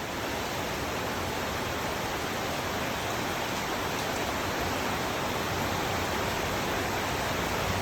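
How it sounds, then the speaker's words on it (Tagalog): Steady, heavy rain pouring down in Novaliches, a dense unbroken hiss that holds at the same loud level throughout. "lumakas na naman na ulan."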